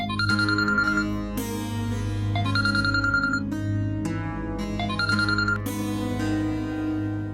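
A mobile phone ringtone plays as a repeating electronic melody, a bright tune that cycles three times, loud and close, with no voices over it.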